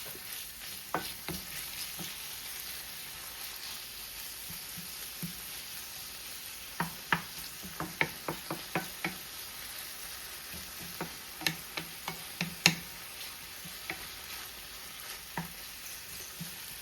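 Food fries in a pan with a soft, low sizzle under sharp intermittent clicks and scrapes of stirring, heard close but quiet.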